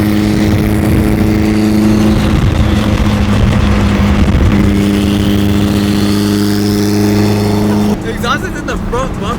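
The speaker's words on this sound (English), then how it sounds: "We're driving a full dragged out Evo with no plate." Modified Mitsubishi Evo, fully built and driven without a plate in California, its engine droning loud and close with steady harmonic hum, a shift in tone near the end.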